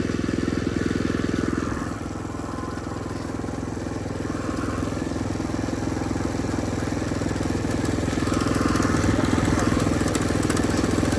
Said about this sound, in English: The exhaust heat shield is rattling,